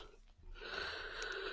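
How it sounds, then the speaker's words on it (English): One long, drawn-out human yawn with a breathy, wheezy rise that holds steady for over a second, heard close in a quiet room. "that was a long yawn"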